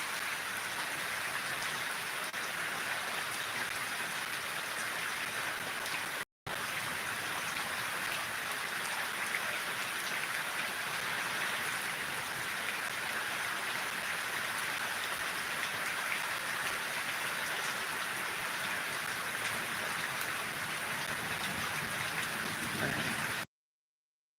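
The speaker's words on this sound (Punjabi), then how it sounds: "ਇਹ ਤੁਹਾਨੂੰ ਮੀਂਹ ਦਿਖਾਉਂਦੇ ਆ ਪੈਂਦਾ ਇੱਧਰ" Steady rain pours down throughout, a dense continuous hiss on surfaces nearby, unbroken apart from one brief dropout, with no talk over it.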